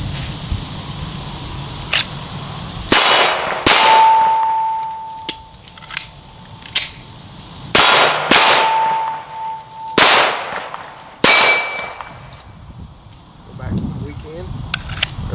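A CZ Shadow 2 pistol fires single spaced shots at steel targets, each crack followed by a loud bright ring from the struck plate, with quiet gaps between rounds.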